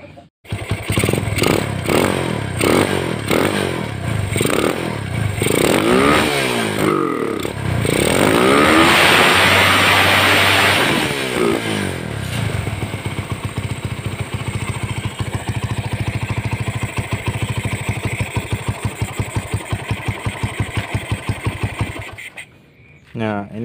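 A Honda GL series motorcycle fitted with a Shogun DC ignition is started and idles with a steady, rapid rattling putter, revving up briefly in the middle before settling back to a fast even idle and cutting off at the end.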